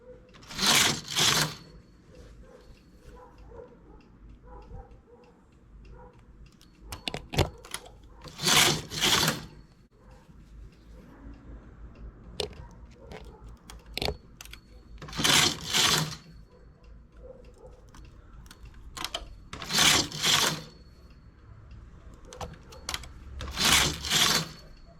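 A knitting machine knits a ribbed summer blouse with loud carriage passes repeated every few seconds. Fainter clicks and rattles fill the gaps between passes, and nobody speaks.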